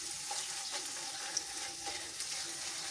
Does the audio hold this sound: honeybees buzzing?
no